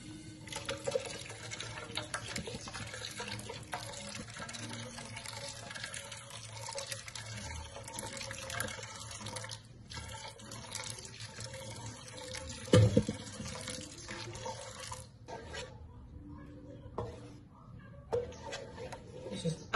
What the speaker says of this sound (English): So I'll be adding our hot water right now.